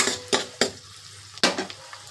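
A spoon stirs ginger garlic paste frying in a pan for a chicken fry, cooking it until golden. Sharp utensil clanks land at irregular intervals over a soft, close sizzle, with no voices.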